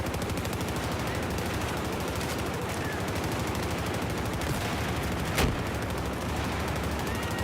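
A light machine gun, the MG4, fires in long rapid bursts during a video game, loud and dense, with other gunfire mixed in and a single sharper shot standing out near the end.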